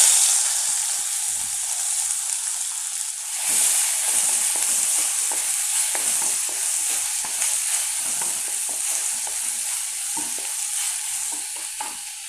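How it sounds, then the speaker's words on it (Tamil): Finely chopped large onions frying in oil with dried red chillies and turmeric in a pan as a home cook prepares navadhanya sundal, a steady loud sizzle broken by spoon scrapes and stirring, with no voice over it. "பொடியாக நறுக்கிற பெரிய வெங்காயம் 2 கட் பண்ணியிருக்கேன், அதை போட்டுக்கலாம்."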